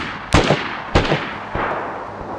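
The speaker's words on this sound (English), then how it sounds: "Past 250 meters up to its maximum sound range of roughly 3000 meters for this weapon, the M4 sounds almost identical to these other weapons." Distant M4 rifle gunshots in the video game DayZ, heard at long range: three dull, booming reports about half a second apart, each trailing off in a rolling echo, the last one fainter.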